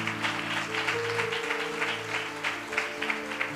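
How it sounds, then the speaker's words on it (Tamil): A church congregation claps together in a steady burst of applause, many hands close and loud, with a sustained tone droning underneath. "அப்படிப்பட்ட தேச தலைவர்களுக்கு அவர் கைத்தட்டு போடுங்க."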